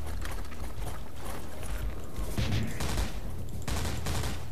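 Gunfire in the video game Foreign Legion: Buckets of Blood, with rapid repeated shots and bursts over a constant game background, moderately loud and with no talk.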